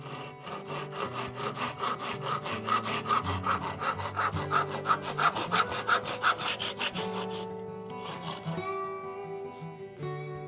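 A hand saw cuts off the top of a wooden axe handle, a close, rhythmic rasp of about twenty even back-and-forth strokes before the cut finishes and the sound tapers off.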